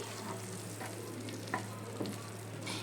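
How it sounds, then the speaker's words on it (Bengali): Prawn and green banana mash frying in a pan while being stirred, giving a low steady sizzle with occasional soft spatula scrapes and knocks. "ঢাকাটাকে খুলে এবার আবার একটু নাড়ছি"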